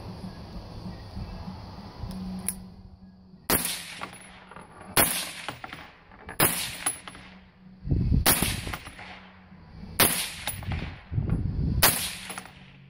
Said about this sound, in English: Here's my new suppressed AR.